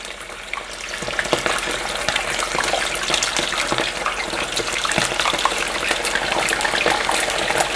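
Chicken wings fry in hot oil at about 367 degrees, giving a dense, steady crackling sizzle with scattered small pops, close and loud, with no voices.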